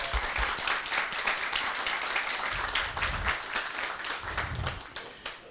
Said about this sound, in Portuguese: eu queria assim, uma salva de palmas para vocês,